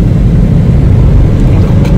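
A heavy, continuous low engine roar, loud and close, with a deep rumbling drone and no voices.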